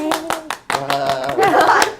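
A few hand claps ring out near and distinct at an irregular pace, layered with a child's or adult's voice and playful vocalizing that rises toward the end.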